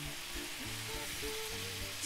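Onion sizzles faintly in a hot oiled pan alongside seared beef, a soft, steady frying hiss with light stirring under it, without any talking.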